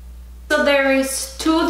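A pet cat meows close by, loud drawn-out harmonic cries, one long call followed by a shorter second one, with no talking.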